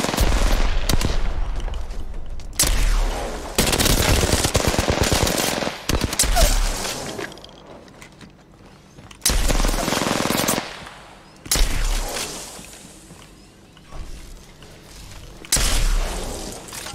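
Gunfire from the battle royale shooter Apex Legends rips out in loud automatic bursts and booming single shots, broken by brief pauses, with no talking.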